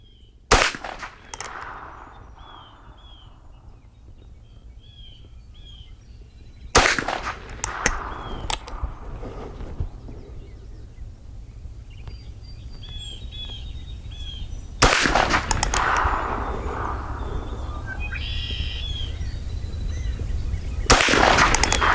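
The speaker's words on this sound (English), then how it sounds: "I'm going to shoot the bottom right-hand target." Heritage Rough Rider 16-inch .22LR revolver fired with CCI Stinger ammunition at an outdoor shooting range: four sharp, loud cracks spaced several seconds apart, with birds chirping faintly between shots.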